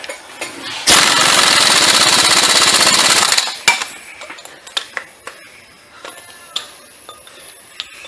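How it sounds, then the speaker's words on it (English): Impact wrench with a 120-pound torque stick tightening a bolt on a 2001-2010 Chrysler Sebring 2.7L. One loud, rattling hammering burst lasts about two and a half seconds, followed by scattered metallic clanks. "I use a 120-pound torque stick."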